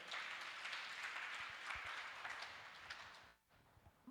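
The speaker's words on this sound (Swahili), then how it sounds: "Shangilia Bwana Yesu kwa makofi" A congregation claps in praise at a church service, a dense continuous wash of many hands for about three seconds before it abruptly stops, with a brief sharp sound at the very end.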